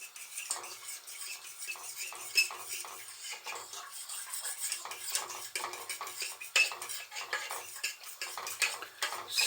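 A spoon scrapes and clinks steadily against a pan while custard is stirred over rhubarb, a close, continuous run of small metallic taps and scrapes with no voices.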